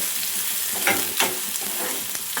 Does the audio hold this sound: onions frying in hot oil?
yes